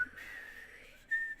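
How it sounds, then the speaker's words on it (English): Melodic whistling opens a song, a single sustained whistled line with a brief pause and a bright rise near the end, alone and fairly clear. "It starts with whistling."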